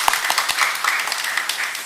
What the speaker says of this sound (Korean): 잠시 일어서 주시면 저희들이 박수로 환영하도록 하겠습니다.